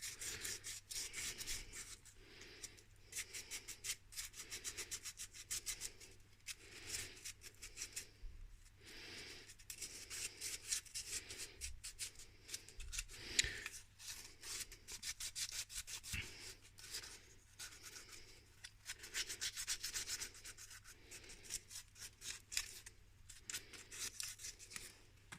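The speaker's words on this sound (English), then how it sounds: "When you file it, you can still get little sort of strands of plastic, and I find the sandpaper just cleans them up." Hand sanding a filed plastic robot part with sandpaper, quiet rhythmic back-and-forth scratchy strokes repeating steadily at close range, no talking.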